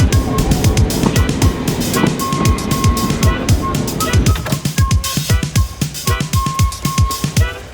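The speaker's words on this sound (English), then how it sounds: "let's go take the train." Steady rumble of a moving train with rhythmic clickety-clack of wheels over rail joints and an intermittent high tonal whine.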